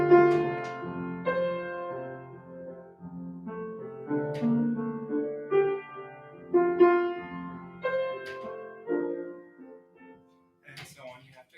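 The main theme of a second movement, a slow melodic instrumental line with sustained tones and gentle swells, played fairly softly and alone, thinning out near the end.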